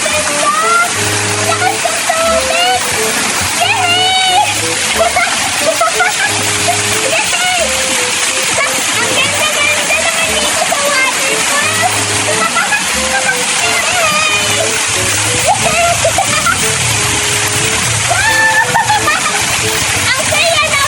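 Water splashes and crashes steadily at a cold waterfall, a loud, dense wash of spray and sloshing that runs throughout while voices talk over it.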